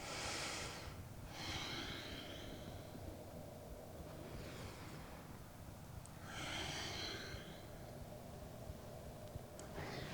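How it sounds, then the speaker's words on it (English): Slow, deep exhaled breaths during a trauma-informed yoga session, three long airy whooshes spaced several seconds apart, soft and close with no talking. "2 more exhales."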